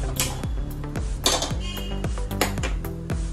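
A metal tawa griddle is set down on a home kitchen stove, a series of ringing metallic clanks and clatters that come in quick succession, close and fairly loud.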